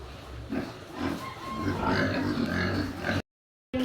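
Domestic pig owned by a family in Nakar, grunting several times at close range over a steady farmyard background, breaking off briefly near the end.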